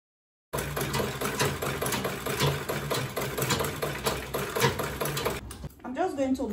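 A sewing machine stitches an Ankara fabric bag, its rapid steady mechanical whir running close and continuous for several seconds before stopping, followed by softer handling noises.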